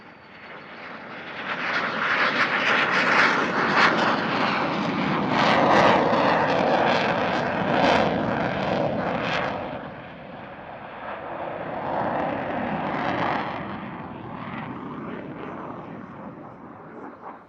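A Dassault Rafale fighter jet makes a slow, low pass with its landing gear down at an airshow, its loud, broad engine roar swelling and holding for several seconds, then easing slightly before building again.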